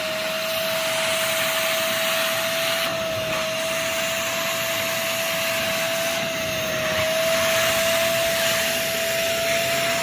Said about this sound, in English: then actually hit it with that wet vac